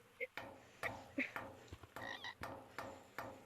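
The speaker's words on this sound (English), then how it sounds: "Mr. Binkles, I have the frog." A frog gives repeated croaks, short rhythmic rasping pulses at close range, mixed with faint chirps and soft background noise.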